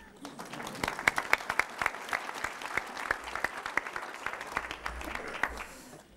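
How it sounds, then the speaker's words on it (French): An audience applauds Rodrigue at a talk, a steady patter of many hands clapping with a few sharper individual claps standing out, moderately loud and sustained for several seconds. "On peut applaudir Rodrigue."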